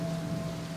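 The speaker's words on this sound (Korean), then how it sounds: "빗소리만 들릴 뿐이었다." Rain falls steadily at night outside an apartment building, a continuous dense hiss with a constant low hum underneath, with no voices.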